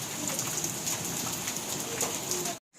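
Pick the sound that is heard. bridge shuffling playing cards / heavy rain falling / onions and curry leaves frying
heavy rain falling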